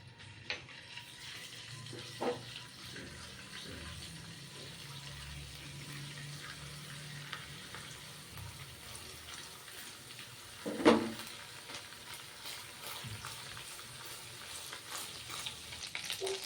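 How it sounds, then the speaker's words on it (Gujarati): Ginger-garlic paste hitting hot oil for paneer bhurji: a steady, low sizzle and faint frying crackle throughout, with a few soft clinks of a spoon or pan, one sharper clatter near the end, and no talking. "વઘાર માટે તેલ ગરમ મૂકી દીધું છે. તો ચાલો રેસીપી સ્ટાર્ટ કરીએ. તો સૌપ્રથમ આપણે આદુ અને લસણની પેસ્ટ એડ કરશું."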